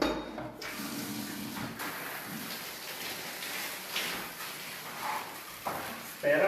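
Water running and splashing steadily over a bicycle being rinsed clean, with a continuous hiss and spatter plus occasional louder bursts and knocks, close by.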